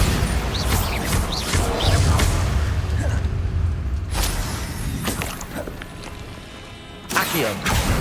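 A Bombarda blasting spell in Hogwarts Legacy fires off with a sharp burst and whooshing impact, mixed among other spell effects, crashes and footsteps in a busy game soundscape.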